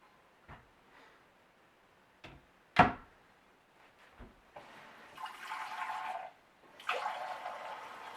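Water running from a tap into a measuring cup, two short bursts of splashing flow after a few knocks and clatters of handling.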